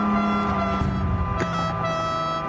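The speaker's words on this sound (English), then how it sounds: "That's a mad horn." A very loud, high-pitched car horn in a racing video game, a sustained foghorn-like blare held steadily for a few seconds over engine hum.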